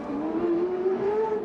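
An Alfa Romeo Indy race car engine screams past at a CART street race in Detroit in 1991, a single high whine climbing steadily in pitch as it accelerates, fairly close and clear.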